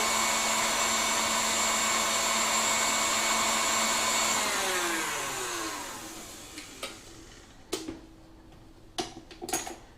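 An electric whisk whips egg whites with a loud, steady high-pitched whir that winds down and stops midway, followed by several sharp clinks and taps of the bowl and utensils.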